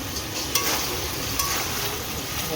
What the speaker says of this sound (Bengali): এবার এর উপরে ফুলকপিটা লাল করে ভাজবো দিয়ে।